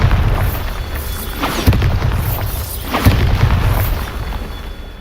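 Bombarda blasting spell explosions in Hogwarts Legacy during a Merlin trial: a steady, heavy rumbling roar with two sharper booming bursts rising out of it, loud and close, with no talk.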